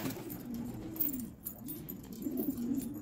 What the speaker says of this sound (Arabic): هاي الحمام كليتها جديدة